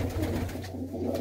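A female pigeon gives a soft, low coo, close and alone, over a faint steady hum.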